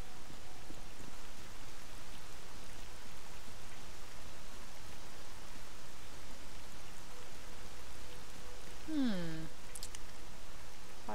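Steady, even rain hisses across the Zaton area in S.T.A.L.K.E.R.: Call of Pripyat, a dense, unbroken patter throughout with a brief tonal chirp near the end.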